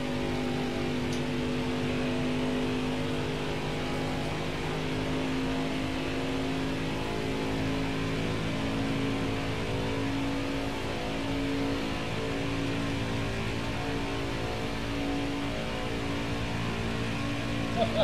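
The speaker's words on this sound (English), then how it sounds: "Car on the outside now." A steady engine drone with constant road noise carries on throughout, like a car cruising at an even speed.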